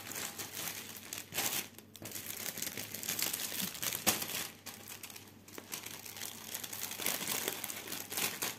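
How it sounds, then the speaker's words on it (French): Sticky tape crackles and crinkles as it is pulled and pressed while unboxing cross-stitch supplies, a steady close-up rustle with occasional sharper snaps, no talking. "mon scotch qui accroche"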